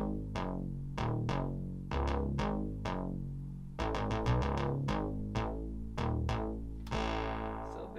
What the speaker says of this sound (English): I just tried to use like a real funky synth bass